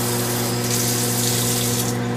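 A bathtub faucet in a Seattle home pours a steady, loud, close stream of water into the tub, continuous and unbroken with a constant hum beneath it.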